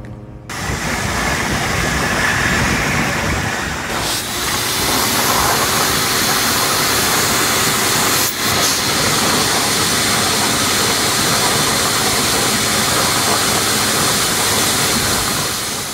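A loud, steady roar of air being blown through hot tub jets while winterizing, hissing continuously for many seconds with only brief dips.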